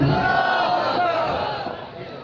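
A large crowd roars a loud, sustained slogan in unison, voices blending into a dense chant that slowly fades.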